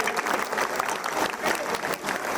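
Crowd applause at a village kirtan gathering held to celebrate the Ram Lalla consecration in Ayodhya. It is a dense, steady burst of many hands clapping together, lasting a couple of seconds at close range.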